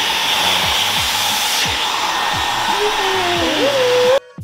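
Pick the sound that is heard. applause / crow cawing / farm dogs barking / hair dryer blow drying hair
hair dryer blow drying hair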